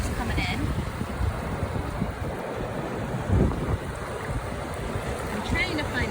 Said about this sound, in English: Look closely, you can see the water's coming in.